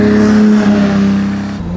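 A 1968 Ferrari 365 GT 2+2 with a V12 engine pulls along while driving, a loud, smooth, harmonic engine note that holds steady and then dips as the revs drop.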